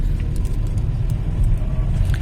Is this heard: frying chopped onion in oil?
no